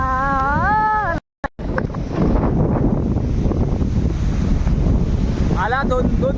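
Strong wind in a stormy, unseasonal downpour in Konkan roars steadily against the microphone, with one brief dropout; a person talks at the start and again near the end.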